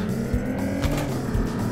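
A VW Golf R32 in the City Car Driving game launches hard from a green light, its engine roaring loudly and steadily with brief tire noise through a short burst of acceleration.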